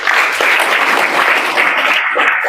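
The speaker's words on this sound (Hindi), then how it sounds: "जोरदार ताली बजा दो।" Loud, vigorous clapping from a student audience, an even wash of many hands that runs the full length and thins slightly near the end.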